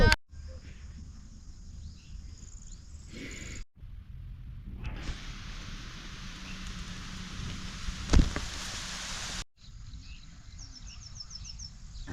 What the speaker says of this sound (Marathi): पाऊस यायला लागला